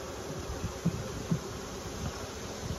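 Bees hum steadily around a hive, a dense close buzzing drone with a few brief louder passes of individual insects, heard alone in an outdoor apiary.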